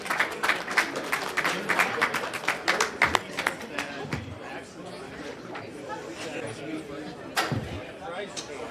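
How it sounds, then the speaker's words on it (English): An audience at a St. Louis cybersecurity conference claps for the panelists, a burst of scattered, close applause that thins out over several seconds, mixed with crowd chatter and talking. "Another big round of applause for our panelists."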